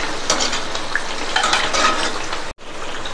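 Plantain bajji deep-fry in a pan of hot oil, giving a loud, dense, continuous bubbling sizzle close by with faint utensil clinks and a brief cut near the end.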